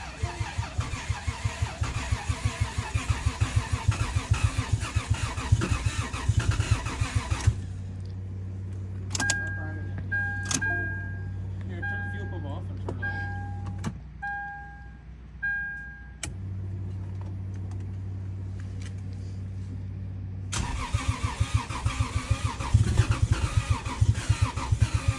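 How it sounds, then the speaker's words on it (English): A turbocharged Lexus IS300 cranks on its first start attempt after a boost build: rapid rhythmic starter chugging that does not catch, then a quieter stretch with electronic chimes and beeps, then another burst of cranking. "So this was actually the day I attempted a first start on the car."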